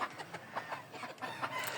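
Soft, repeated clucking from desi (native Bangladeshi) hens, some laying eggs, faint and somewhat distant, over a steady background hiss.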